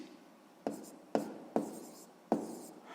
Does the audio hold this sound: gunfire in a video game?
no